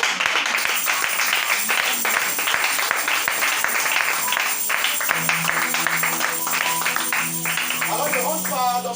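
A church congregation claps and cheers in praise, dense broadband applause running steadily throughout with voices and shouts mixed in, loud and close, with some sustained tones near the end.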